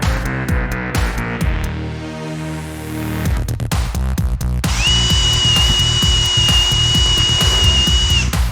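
Drain cleaning machine feeding its cable into a main sewer line clogged by tree roots, a loud whirring motor with rhythmic rattling and knocking, then a steady high-pitched whine as the cable spins at length.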